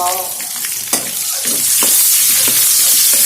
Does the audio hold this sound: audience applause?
no